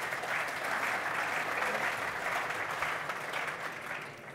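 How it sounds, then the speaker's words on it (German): Welcoming applause for a guest at a housing-industry panel talk, a sustained, even patter of many hands in a hall, steady and fairly distant, tapering slightly at the end. "Der Applaus, den haben wir extra für Sie aufgespart"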